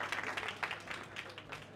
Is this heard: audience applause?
yes